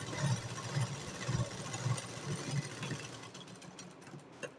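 A domestic sewing machine runs in short repeated bursts while stitching a blouse seam, its motor whirring close by with a rhythmic mechanical chatter that settles toward the end.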